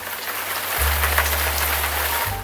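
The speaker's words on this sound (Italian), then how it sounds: "Quel forte acquazzone mi accompagnò durante il viaggio di ritorno, picchiettando questa volta sulla mia auto." Heavy downpour drumming steadily on a car during a drive home at night, a dense continuous patter with a low rumble underneath, loud and close, with no voices.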